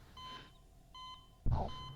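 Electronic beeping sounds in the video game Xenoblade Chronicles X, two short tonal beeps spaced apart, followed by a sudden louder mechanical thud and hiss.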